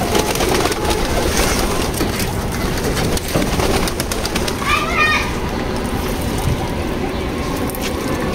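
Racing pigeons coo at a loft, soft repeated coos and bird calls over a steady background of rustling and scraping, with people talking faintly.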